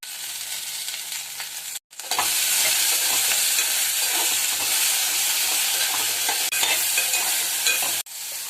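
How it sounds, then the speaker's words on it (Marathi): Okra sizzles loudly in a hot pan as it is stir-fried for a fasting-style buttermilk okra dish, a steady hiss broken by a brief pause, close and continuous with no talking. "आता भेंडी टाकून आपण परतून घेऊया"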